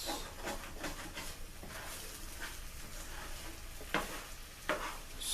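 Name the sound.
eggs being scrambled in a pan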